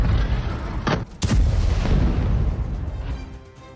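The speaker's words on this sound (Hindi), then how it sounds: "बेरूत अंतर्राष्ट्रीय हवाई अड्डे के पास भी बड़े हमले हुए हैं, बड़े धमाके हुए" Loud blasts from air strikes near Beirut's international airport and residential buildings, news footage: a sharp broadband explosion bursts out near the one-second mark over a dense low rumble, a second crack follows, and heavy booming reverberation lingers and fades.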